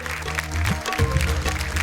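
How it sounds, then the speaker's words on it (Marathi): Audience applause on a Marathi game show, a burst of clapping under a loud music sting with low tonal chords, brief and fairly close. "जोरदार टाळ्या वाजत राहिल्या पाहिजे"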